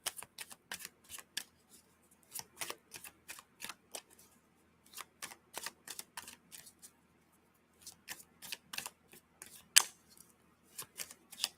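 Tarot cards shuffled and drawn, quiet, crisp flicks and snaps arriving in irregular bursts with short gaps of near-silence between them.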